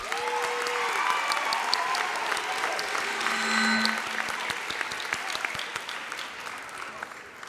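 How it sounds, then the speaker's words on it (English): Sustained applause fills a high school graduation hall for the HBCUs, a dense even roar of many hands clapping that holds for several seconds, with brief voices and a few tones over it early on. "Can we give a round of applause to the HBCUs?"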